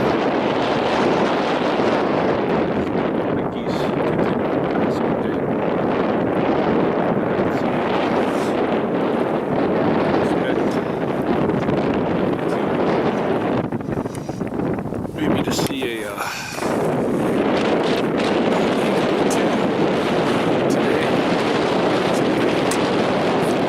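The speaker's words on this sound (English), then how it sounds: "Cold wind, very, very chilly." Cold wind gusts straight into the microphone outdoors, a loud, steady rumbling roar that fills the whole stretch and eases only briefly about two-thirds of the way through.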